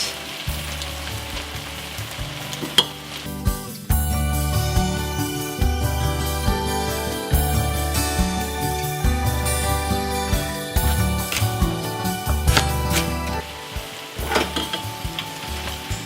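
Chicken pieces frying in a pan for chicken creole, with a loud, continuous sizzle and occasional clinks and scrapes of stirring, no voices.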